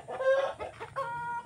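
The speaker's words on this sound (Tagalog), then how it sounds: "Takot yung manok sa akin." A chicken clucks close by in a few short, tonal bursts, with a brief pause before a final drawn-out cluck.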